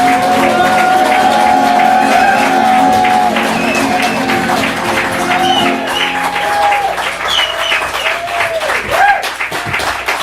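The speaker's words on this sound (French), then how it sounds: "On applaudit le fantastique poète qui est M." A live audience at an open-mic poetry night applauds a poet with a loud, sustained wash of clapping and some shouts. Other voices call out over it before the clapping thins toward the end.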